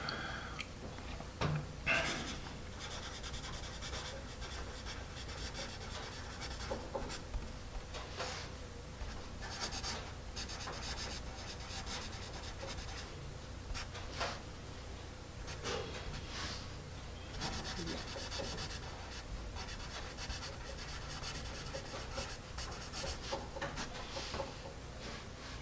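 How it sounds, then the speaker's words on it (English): A Palomino Blackwing Pearl pencil writes steadily on paper, with soft continuous scratching and rubbing strokes and occasional small taps, close and quiet throughout. "It is a lovely, lovely pencil to write with."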